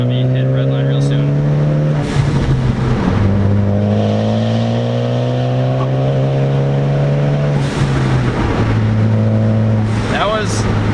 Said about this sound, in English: That was probably 3/4 throttle in third gear.